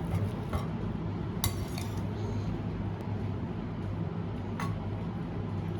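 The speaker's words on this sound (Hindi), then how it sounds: "अब फिर से मैं इसके ऊपर चावल डालूंगी।" Cooked rice is spooned over a layer of vegetables in a pot for dum veg biryani, with scattered metallic clinks of the spoon against the vessel over a soft background hum.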